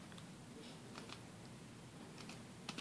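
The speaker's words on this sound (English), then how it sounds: "I'm usually faster at typing" Faint, scattered keystrokes tap softly on a keyboard in a quiet room, irregular and sparse.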